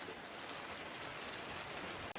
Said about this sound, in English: Can you hear that? It's raining, it's pouring, but it's not coming in the boat